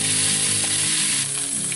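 Pork chops browning in a cast iron pan give a loud, steady, close sizzle with no pauses and no voices.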